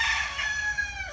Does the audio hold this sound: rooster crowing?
yes